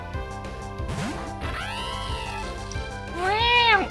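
A cat-like Pokémon cry from Pokémon Platinum, a harmonic meowing game sound in rising and falling sweeps, with a louder final cry over steady in-game music.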